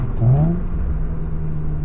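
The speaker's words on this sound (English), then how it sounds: "To me, it almost sounds like a sporty factory exhaust. Like it's got some volume, but it's very, very tame." Honda engine revving through a custom-fabricated exhaust, a brief rising rev followed by a steady low rumble at idle, close and fairly loud.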